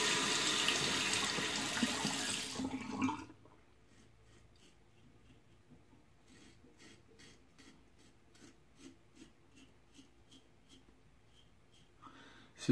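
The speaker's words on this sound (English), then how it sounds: "Give it a rinse." A tap runs with a hissing stream of water for the first few seconds as something is rinsed under it. Then it cuts off to quiet, and a series of soft rhythmic rasping strokes follows.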